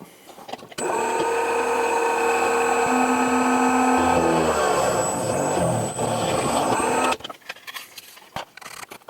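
A small power drill whirs steadily for several seconds while cleaning up drilled holes in a plastic model kit, a close, loud motor whine that dips in pitch partway through, then stops.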